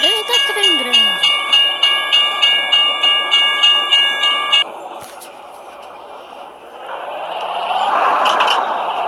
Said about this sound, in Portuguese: Eita, trem grande.